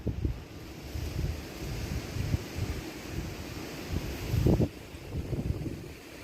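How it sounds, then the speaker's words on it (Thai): Dry wind gusting outdoors on a hot, sunny day, a broad low rumbling rush of microphone buffeting that swells and eases, loudest near the middle, with no talking. "ลมแห้งครับ"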